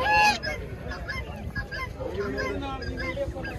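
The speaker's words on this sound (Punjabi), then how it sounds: "ਵੱਡੀਆਂ ਬਤਕ ਆ ਗਈਆਂ," Large ducks at a rural animal market in Jagraon, Punjab, give loud, repeated honking calls close by over a busy crowd murmur, with overlapping bird voices throughout.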